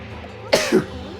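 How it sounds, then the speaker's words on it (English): A single close sneeze: a sharp, noisy burst followed a split second later by a second, shorter blast, then quiet. "I have to sneeze again."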